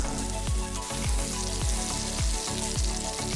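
Shrimp and char siu Yangzhou fried rice sizzles loudly in a hot pan while a metal spatula stirs and scrapes in a regular rhythm, striking about every half second, close up and continuous.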